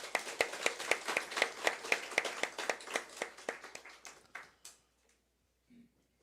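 A church congregation claps after a choir performance with brisk, rhythmic hand claps that ring out clearly, then thin and fade away after about four seconds, leaving near silence.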